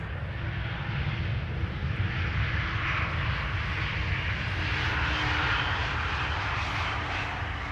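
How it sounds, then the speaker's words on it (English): Croatia Airlines A220 jet landing on the Polderbaan runway 18R at Amsterdam Schiphol, a steady broadband engine roar held at constant loudness throughout with no speech. "Croatia Airlines A220."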